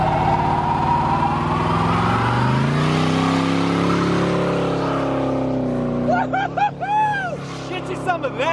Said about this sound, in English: This thing laid patch. It got both tires too.